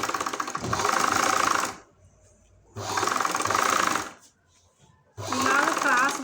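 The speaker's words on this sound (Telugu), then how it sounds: "అదే కుట్టు మీద ఇప్పుడు కుట్టు పడేలాగా చూడండి" Sewing machine running in three loud, close bursts separated by short pauses, stitching a cross-cut piping strip along a blouse lining seam.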